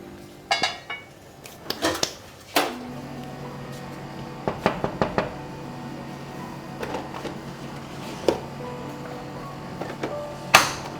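Dishes being washed in a home kitchen: scattered clinks and clatters of pots, plates and cutlery at close range, with irregular knocks over a quiet background.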